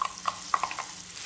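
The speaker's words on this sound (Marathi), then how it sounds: "आता हे व्यवस्थित असं मिक्स करून घ्यायचं आहे, हलवून घ्यायचं आहे" A spoon stirs a spice mixture with asafoetida in a pan while cooking green peas, giving a few quick scraping clicks over a faint sizzle in a short, quiet burst.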